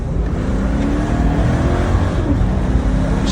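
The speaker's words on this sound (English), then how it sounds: "we're making sure that the engine has the power that it's supposed to have" A car accelerating hard on an auction test track, its engine roaring loud and close in a sustained rising pull, with no talking.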